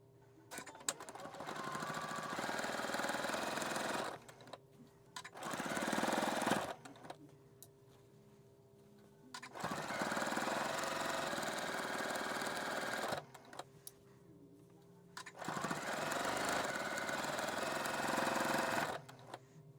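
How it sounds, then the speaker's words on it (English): A sewing machine stitching a quilt seam runs in several long bursts of rapid mechanical whirring, separated by short pauses, close and steady, with no talking. "Okay, so I just sewed the seam"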